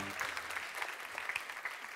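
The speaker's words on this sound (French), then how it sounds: "Est-ce qu'on peut applaudir le Seigneur?" A church congregation applauds in a faint, distant-sounding patter of clapping, with a brief trace of voice at the start.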